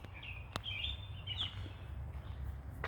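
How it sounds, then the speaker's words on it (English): Birds chirp in the evening at a farm where horses are being fed, with a few thin, high calls drifting over a steady low rumble of background noise. "The birds are so noisy."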